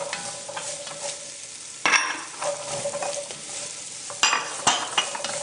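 Carrots and celery cook in a pot for beef barley stew, stirred with a utensil: steady soft sizzling with scraping stir strokes and a couple of sharper knocks against the pot, close up with no talking.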